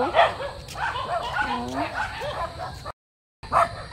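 Several dogs bark and yip in a busy outdoor scene beside rice fields, with people talking over them and a brief dropout near the end.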